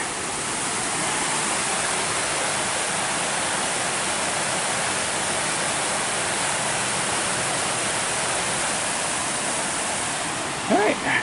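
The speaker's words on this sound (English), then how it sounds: "Very much waterfall there." A waterfall roars in a steady, loud, unbroken wash heard from a viewpoint, continuing evenly throughout with nothing else on top until a brief sound near the end.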